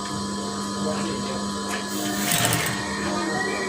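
A sewing machine stitching curtain fabric, a steady close mechanical whir with a slight surge partway through, running continuously with a speaking voice faintly present.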